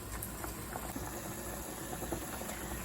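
Water boils steadily in a pot holding wooden spoons and utensils, a constant faint bubbling hiss with no talk.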